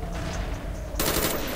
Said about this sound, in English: I'm gonna use the Galil just to mix it up.